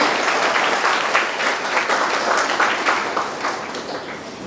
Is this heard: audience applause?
yes